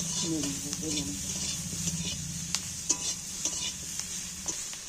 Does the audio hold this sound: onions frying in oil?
yes